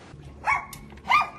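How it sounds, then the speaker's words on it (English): Several small dogs bark in two sharp, close bursts about half a second apart, with a brief yip between them and no talking. "He's got a bunch of little dogs running around all the time"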